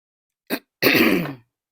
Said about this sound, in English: Let me take a drink and see if I can clear my throat for just a sec.